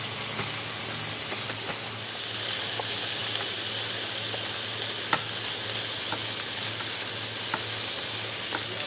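Lamb chops fry in a pan on a stove at full heat, giving a loud, continuous close sizzle with occasional sharp pops and crackles throughout.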